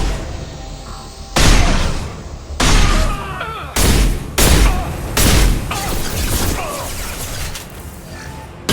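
Heavy gunfire from the sci-fi shooter Mass Effect 2 erupts in loud, repeated bursts and booms that cut in over a constant background of game noise, with a short pause between volleys.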